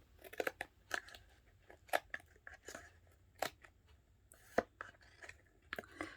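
Dollar-store scissors snip repeatedly through stiff cardstock, a series of crisp, irregular cuts close by with short pauses between them, quiet otherwise.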